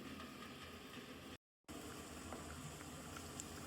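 Sambhariya vegetables simmer in a pot, giving a faint, steady bubbling hiss that drops out briefly before carrying on evenly.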